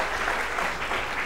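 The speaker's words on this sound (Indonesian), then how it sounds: "tepuk tangan sekali lagi yang meriah buat mereka" Steady applause from a school audience fills the whole moment, dense and even, with no voices standing out.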